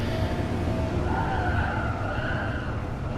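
Tires skid and squeal under hard braking in Gran Turismo Sport, a steady, loud rushing screech with rising whine tones over a low rumble, continuous throughout with no talk.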